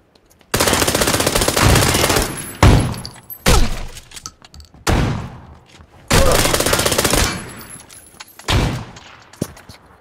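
Gunfire in PlayerUnknown's Battlegrounds: long loud bursts of automatic fire alternating with single shots and brief gaps, close and dominant throughout.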